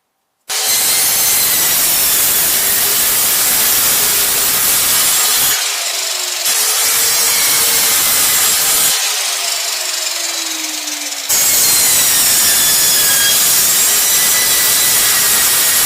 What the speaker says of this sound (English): So we'll go down and cut some wood